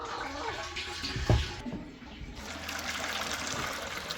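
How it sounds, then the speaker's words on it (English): Water runs into buckets at a turkey coop, a splashing, trickling flow with a sharp knock midway and faint outdoor background around it. "We got to fill up the buckets."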